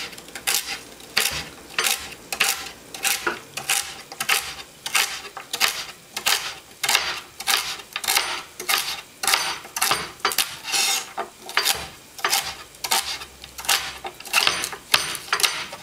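A knife chops vegetables, including tough celery, on a cutting board for a fennel and ginger soup. The sharp, close strikes come in a steady quick rhythm, about two per second, with brief pauses, and no voice is heard.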